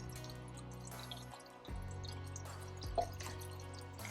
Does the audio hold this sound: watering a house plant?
yes